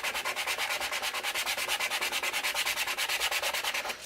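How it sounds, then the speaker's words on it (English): Hand sanding with 400 grit hardware-store sandpaper on a small crafted mermaid box, a quick steady back-and-forth rubbing rhythm, close and continuous with no voices. "Or let's sandpaper it."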